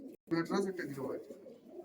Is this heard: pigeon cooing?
yes